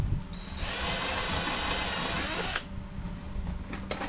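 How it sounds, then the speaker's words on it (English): Power drill boring a hole for a body mount in a nitro RC buggy's plastic body, a steady close whir running about two and a half seconds before easing off into quieter handling noise. "I like just get it started with the drill."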